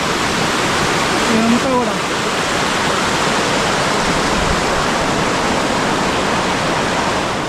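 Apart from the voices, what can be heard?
waterfall, water falling in stages in Andharban forest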